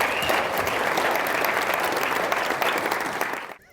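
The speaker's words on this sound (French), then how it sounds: "On l'applaudit encore." An audience in a boys' high school applauds a cartoonist's finished drawing, a dense, steady burst of clapping that carries on for several seconds before stopping abruptly.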